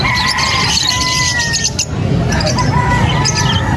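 Parakeets and lovebirds chirp and squeal in a busy Angeles City pet market, with thin whistled calls rising over steady crowd murmur and low background din, some calls near and others further off.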